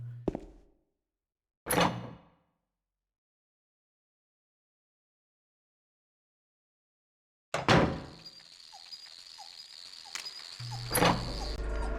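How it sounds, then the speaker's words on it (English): A locked door in the video game Silent Hill 2 rattles in short, loud metallic bursts, separated by silence, then a longer clattering stretch with a hum and a final rattle, with no voices. "Can't even get that door open."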